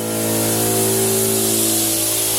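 Compressed air forces water out of an inground sprinkler head during a winterizing blowout, a loud continuous hissing spray with a steady engine-like hum underneath, close and unbroken throughout.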